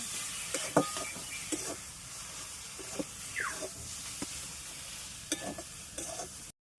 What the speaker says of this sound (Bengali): সর্ষে আর কাজু বাটাটা যেটা বেটে রেখেছিলাম সেটা পরিমাণ মতন দিয়ে দেবো দিয়ে খুব ভালোভাবে নাড়িয়ে নেব